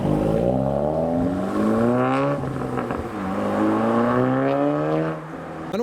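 A Volkswagen Golf R pulls away from a car show, its engine note rising through gears with clear harmonic sweeps, fairly close and steady, dipping briefly between shifts before climbing again.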